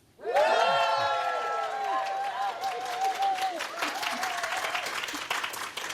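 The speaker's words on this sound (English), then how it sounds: "They're cheering you and me, Ben." A live audience applauds and cheers at a podcast recording held at a conference, with dense, sustained clapping and whoops that swell near the start and carry on steadily throughout.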